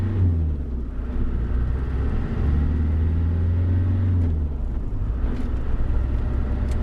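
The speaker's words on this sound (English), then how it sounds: "As we leave the lay-by and accelerate, the oil temperature will drop initially." Land Rover Discovery running on waste vegetable oil pulls away from a lay-by, its engine a steady, close low rumble that holds and shifts in pitch as it accelerates, with no talk over it.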